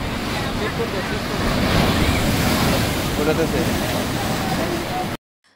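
Sea surf breaking and washing onto the beach at Digha, a steady loud roar of waves with wind buffeting the microphone, continuous until it cuts off abruptly near the end.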